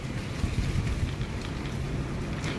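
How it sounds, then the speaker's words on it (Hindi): Strong, sudden outdoor wind blowing hard against the microphone, a continuous loud low rumble and buffeting gusts with no speech. "आज बहुत ज़ोर से हवा चल रही है"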